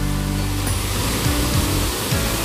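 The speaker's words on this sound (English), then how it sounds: "It's getting really loud because the waterfall is really loud." Coban Lanang waterfall in a bamboo-lined gorge near Malang, Indonesia: a loud, steady roar of falling water close by, filling the whole clip with a constant wash of noise.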